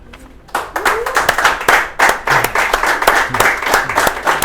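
Audience applause after a poetry reading, a dense run of many hands clapping that starts after a short quiet moment and keeps a steady, fairly loud level throughout.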